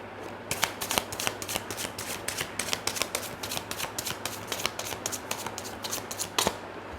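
Tarot cards shuffled by hand in a rapid run of crisp riffling snaps and flutters that carry on steadily throughout, close and fairly quiet, with no one talking.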